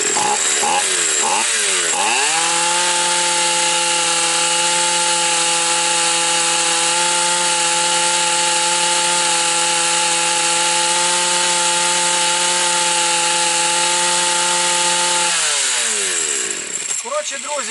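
A Stihl MS 3800-class chainsaw engine revs up and holds a loud, steady high-pitched drone for a long stretch before winding back down.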